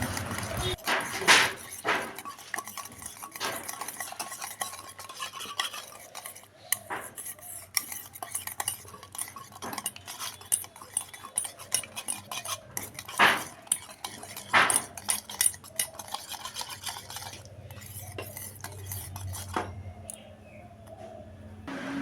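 Rajbhog shrikhand is whisked and stirred in a bowl, a close, steady clatter of a utensil scraping and tapping the bowl in quick irregular strokes, with a couple of sharper clinks partway through.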